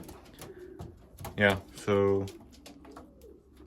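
Pigeons coo softly inside a loft housing racing birds, including a half grizzle, half ace strain hen, with a few low calls spread across the moment under a brief spoken remark.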